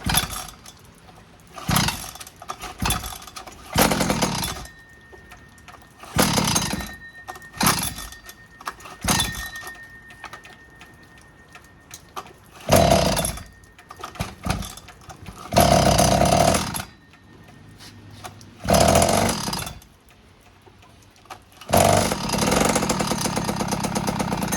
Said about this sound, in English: I'm gonna have to start it with the throttle and go from there